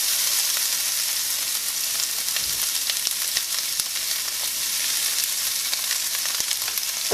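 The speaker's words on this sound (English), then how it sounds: "to that hot oil, we're going to add our diced onion" Diced onion fries in hot oil in a pan, giving a continuous close sizzle with scattered sharp pops and crackles and occasional light stirring, with no talk.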